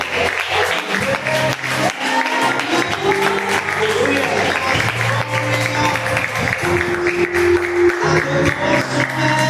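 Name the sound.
congregation applauding in church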